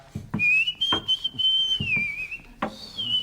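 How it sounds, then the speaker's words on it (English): A person whistles a wandering, tuneless line of high sustained notes, broken by a few short pauses and some low thumps underneath. "his whistling has no melody whatsoever"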